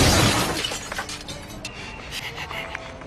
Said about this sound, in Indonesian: sudah memecahkan kaca jendela mobil